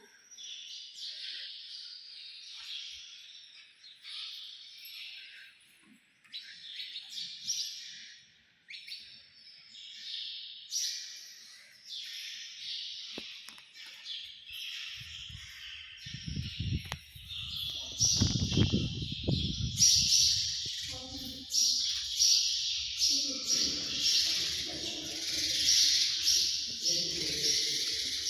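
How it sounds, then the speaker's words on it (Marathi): Sparrows chirp and twitter continuously at Gugwad Dhamma Bhumi, a Buddhist meditation ground with a large Buddha statue, a dense, steady chatter of many birds that swells louder later, joined by low rumbling noise in the second half. "चिमण्यांचा किलबिलाट."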